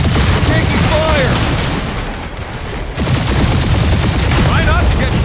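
Rapid gunfire and booming shots rattle continuously through a video game battle against turrets and an army, loud and dense, dipping briefly midway before resuming, with voices talking over the combat.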